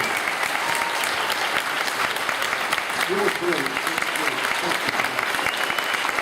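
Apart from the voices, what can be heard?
audience applause for actor Patrick Duffy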